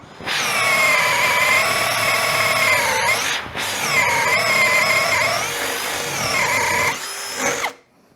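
A Hasston 16 V brushless cordless drill runs at speed 2 with a loud, steady high-pitched whine, briefly dipping in pitch around three seconds in, then spinning back up before cutting off near the end.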